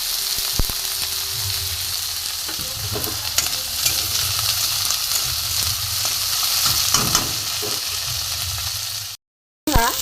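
Vegetables (carrot, cauliflower, peas and beans) frying in a pan for a vegetarian dal, a constant loud sizzle with scraping stirs of the spatula, close up, cutting out briefly near the end.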